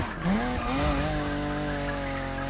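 A car in The Crew Motorfest lets its tires slip a little under traction control and ESP, producing a sustained, fairly loud squeal with wavering pitch layered over a steady engine hum.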